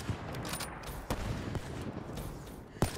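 Video game gunfire, with several sharp shots cracking at irregular intervals over a busy, noisy background, one loud burst standing out near the end.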